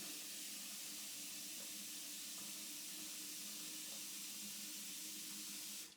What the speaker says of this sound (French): j'attends que l'eau coule parce que c'est le bruit.